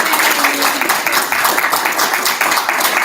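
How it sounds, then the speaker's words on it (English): A small tech-talk audience claps steadily, a dense even patter of applause lasting the whole few seconds with no voices standing out. "Can I get another round of applause?"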